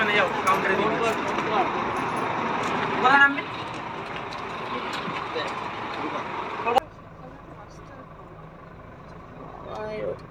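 At a busy bus stand, a bus engine rumbles amid surrounding traffic while people talk nearby, the loud mix dropping abruptly to a quieter hum partway through.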